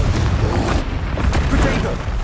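In the Hogwarts Legacy video game, Bombarda and Confringo spells explode one after another as loud, rumbling booms that overlap in a continuous heavy roar, with possible game voices mixed in.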